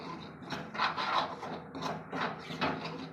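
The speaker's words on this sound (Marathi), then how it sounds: "आपल्याला हा रवा लो फ्लेमवर भाजून घ्यायचा आहे" Semolina (rava) stirred and dry-roasted in a pan over a low flame, for upma, giving repeated scraping, rasping strokes in an uneven rhythm, close and moderately loud with no talking.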